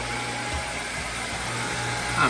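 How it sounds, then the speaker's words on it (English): A chiller plant for the air conditioning aboard the boat Prime Time runs with a steady, close, even mechanical hum and a broad airy drone, with no talking over it. "Aircon chiller plant."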